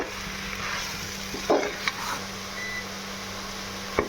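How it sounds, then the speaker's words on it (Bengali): Mushrooms sautéed in a cooked spice masala for mushroom biryani, a steady sizzle with a few spoon scrapes and light knocks against the pan, no voices. "এবার মাশরুমটাও দিয়ে আমি ভালো করে"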